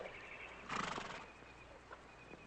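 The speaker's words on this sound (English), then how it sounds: "Beautiful horse." A horse neighs in a short, loud whinny with faint hoof clip-clops and a few soft knocks afterward, with no talking over it.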